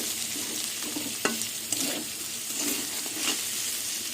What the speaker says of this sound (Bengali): সয়াবিনগুলো একদম লাল লাল করে ভাজবো